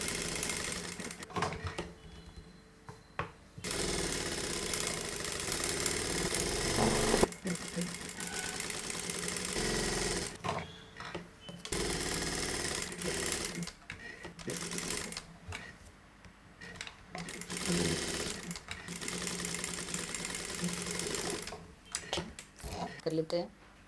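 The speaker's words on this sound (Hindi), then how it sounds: "एक चाप, एक पैर की सिलाई या क्वार्टर इंचेस की सिलाई से आप शुरू कर सकते हो।" A sewing machine runs in long stitching stretches along a princess-seam blouse seam, its steady whirring rattle close and broken by brief stops, while someone talks over it.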